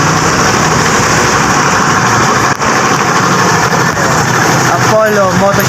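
A motorcycle engine idles at the Apollo Moto Shop, a loud continuous buzzing rumble that holds steady throughout, with a short, faint whistle-like sound near the end.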